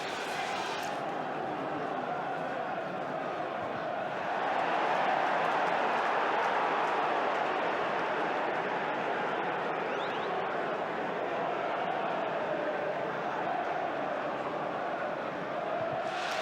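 Football stadium crowd of about 31,000 at the Riverside during a Middlesbrough–Chelsea match, a broad continuous roar swelling slightly partway through, with a commentator talking over it.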